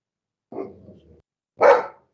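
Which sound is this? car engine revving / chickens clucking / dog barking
dog barking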